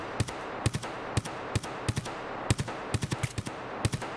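Sharp gunshots from Escape from Tarkov, a volley of single and double cracks followed by a quicker burst, loud and close with no talk.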